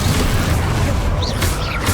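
Bombarda blasting spell from Hogwarts Legacy erupting as a loud, sustained booming roar with crackling bursts layered over it, close and dense for the whole two seconds.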